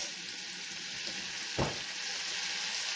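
A whole stick of butter sizzling in a hot stainless steel skillet, a constant close hiss and crackle with one soft thud partway through, no voices.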